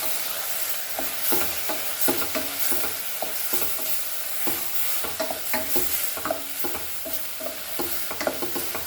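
Turmeric and coriander powder fry with tomatoes in a pan, a soft steady sizzle broken by repeated scraping stirs, alone and fairly quiet.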